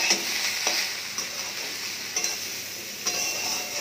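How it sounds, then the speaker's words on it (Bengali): Mixed vegetables are sautéed with coriander powder, turmeric and salt, sizzling steadily in the pan while a spatula stirs and scrapes in soft, repeated strokes. "দিয়ে এটাকে আরেকটু ভালো করে কষিয়ে নেব।"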